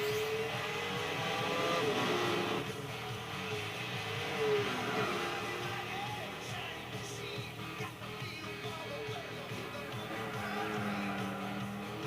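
A 1996 Corvette Grand Sport V8 in Gran Turismo 4 races along, its engine droning and rising and falling through gear changes and revs, a continuous mechanical roar heard alone.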